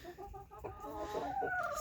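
Chickens clucking inside a coop that holds at least eight roosters, a few close, irregular clucks and short rising calls overlapping over soft background rustle.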